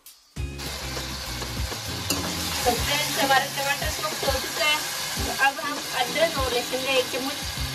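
Tomatoes and salt sizzle and fry in a hot pan for Amritsari chole, a steady close crackle with spoon stirring scrapes throughout.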